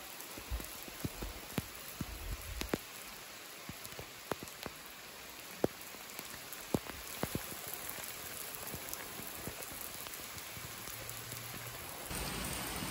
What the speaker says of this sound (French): il s'est mis à pleuvoir de fou